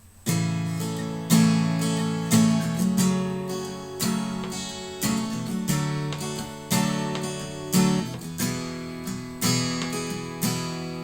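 Steady rhythmic strumming of chords on an acoustic guitar in the pattern of a song, with regular down and up strokes repeating in a bouncy pattern, played alone and up close.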